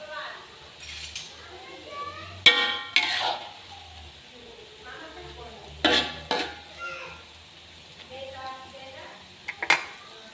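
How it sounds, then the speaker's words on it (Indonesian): A spoon stirs food in a cooking pan, giving scraping strokes and sharp metallic clinks at intervals over a soft background sizzle, with a voice speaking between the strokes. "Ini kita mau aduk dulu"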